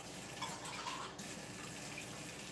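Tap water runs steadily into a glass jar that held chipotles in adobo sauce, a quiet continuous hiss and splash in a home kitchen with no voices.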